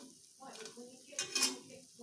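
Dried fish, tuyo, fries in a pan with a soft sizzle, light scraping and the clink of utensils, heard close and fairly quiet.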